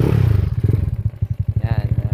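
A two-valve open-pipe commuter motorcycle, engine already warm, fires up and settles into a loud, close, rapid pulsing idle with clattering mechanical noise, all alone without any talk.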